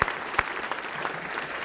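Audience applause at a keynote address for the speaker's parents, a steady short burst of clapping heard throughout.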